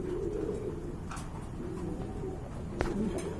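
Pigeons coo softly and continuously at a large pigeon farm, with a few brief chirps and clicks rising over the low murmuring calls.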